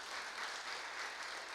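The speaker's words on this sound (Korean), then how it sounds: "큰 격려의 박수를 보내주시면 감사하겠습니다" A congregation at a church choir dedication service claps in encouragement for the choir, heard as a faint, steady wash of applause from a distance.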